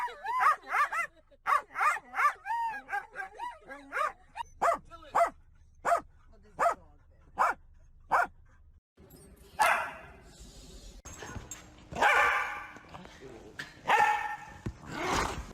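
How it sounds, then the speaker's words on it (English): A reactive pet dog barks repeatedly in a steady, evenly spaced series of sharp, loud barks, then gives a few whimpering yips and louder, rougher barks near the end; nobody speaks. "He would also sometimes bark or growl at people that came into her house."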